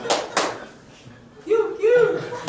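Classroom students perform the tepuk motor clapping routine, two sharp claps up front followed after a pause by voices, with more claps faintly mixed in near the end.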